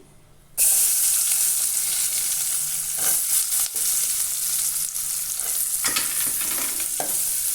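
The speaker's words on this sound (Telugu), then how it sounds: "ఇది కూడా దూరగా వేగేంత వరకు ఫ్రై చేసుకోవాలి." Onions frying in a pan for an egg fry dish, a sudden loud sizzle that starts abruptly and hisses steadily, with brief scraping stirs breaking through now and then.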